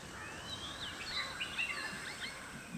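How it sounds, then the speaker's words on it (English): Many birds chirp and call faintly at dusk in a park in Bangkok, Thailand, with overlapping short tweets and whistles over a quiet, steady background. "during this time you can hear the voice of many birds"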